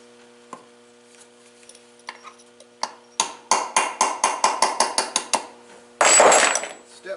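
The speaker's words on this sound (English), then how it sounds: "Let's take this flywheel key out." Stihl 036 chainsaw flywheel key being worked loose: a rapid, evenly spaced series of sharp metallic impacts, close and fairly loud, after scattered light clinks and ending in a dense burst of harsher clattering noise.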